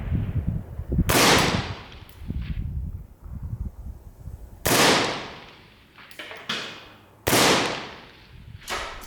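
Rifle shots fired in groups of three with a B-33 dust cover fitted, using regular cartridges; sharp, loud cracks spaced a few seconds apart, each with a decaying echo tail.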